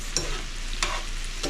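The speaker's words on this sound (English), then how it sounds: "And we need to stir that pasta." A spoon stirs crawfish pasta in a sizzling pan, giving a few scraping strokes over a steady frying hiss, close up and without talk.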